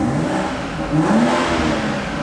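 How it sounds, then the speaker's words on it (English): A 2019 BMW X3 M40i SUV's deep, throaty 3-liter twin-scroll turbo engine revs up and holds a steady growl, swelling briefly in pitch before settling, close and fairly loud with no talking. "Really throaty sound from the engine, that 3-liter with the twin scroll turbo"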